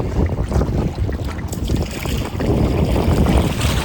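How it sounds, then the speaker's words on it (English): Gusty wind buffets the microphone on a choppy lake with whitecaps while a canoe is paddled near shore, a steady, loud rumbling roar that swells louder in the second half, with no talking. "I'm fighting the wind, like I said, so it isn't gonna necessarily be the easiest to paddle."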